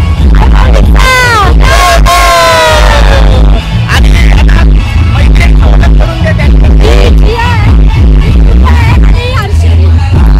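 A loud, dense crowd cheers and yells at an Ekveera palanquin festival procession in Navi Mumbai, sharp whoops and shouts over sustained festive noise and booming drums, with no quiet moment throughout.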